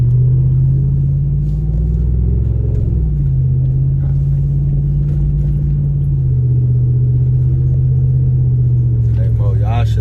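Inside the cab of a 2017 RAM 2500 Big Horn with a muffler delete, a deep, constant exhaust rumble drones steadily throughout, with faint voices over it toward the end.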